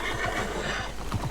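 Horse neighing in the Red Dead Redemption video game, a whinny heard alongside clip-clop hooves over a steady game background, moderately loud and continuous.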